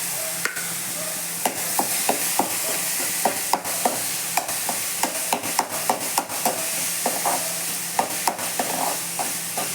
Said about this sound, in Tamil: பச்சை வாடை போகிற வரைக்கும் நல்லா வதக்கி விட்டுக்கலாம்.